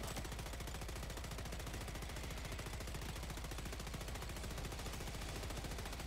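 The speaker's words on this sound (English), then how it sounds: "I was just on the turret, dealing with some invaders" Turret fire in the video game Helldivers 2: a continuous, rapid-fire stream of evenly spaced shots hammering away at constant loudness for the whole stretch, with no talk heard.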